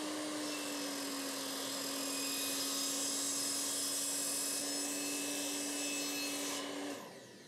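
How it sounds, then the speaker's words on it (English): A table saw rips laminated MDF boards in a workshop with a loud, steady whine and dense cutting noise that holds for about seven seconds, then drops away as the cut finishes. "Now on my table saw, I'm just ripping more or less in half the two MDF, laminated MDF boards"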